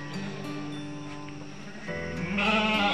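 Garut sheep, a young animal of about 8 to 10 months, bleat continuously at a goat and sheep farm in Bogor, with wavering, overlapping calls that swell louder near the end.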